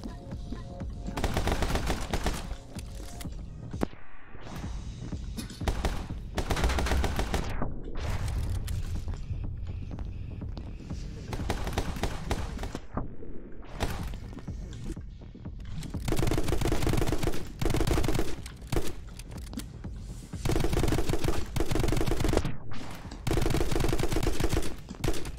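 Sniper rifle fire in the video game My Friend Pedro: dense, loud shots and bursts pile up with mechanical clacks, broken by a few short pauses. No one speaks.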